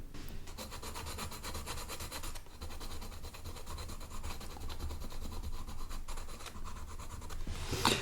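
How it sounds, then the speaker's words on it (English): Steady dry scratching of a colored pencil over liquid charcoal on paper, continuous and close, with slight shifts in stroke rhythm. "So this is a sound on plain paper, and now I will go on top of the charcoal."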